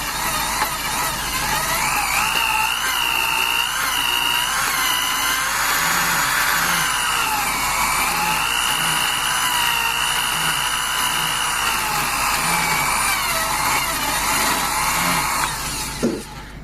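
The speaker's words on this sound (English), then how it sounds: "We're starting to make a new seat, grind into the seat." A small rotary tool laps a valve into its seat in a 3520 engine, a steady high whine that runs close and loud for most of the clip and stops abruptly near the end.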